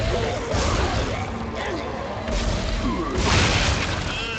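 Exploder enemies blowing up in the video game Dead Space 2, giving dense, booming blasts with crashing debris that swell repeatedly over a loud, continuous game mix while a player talks.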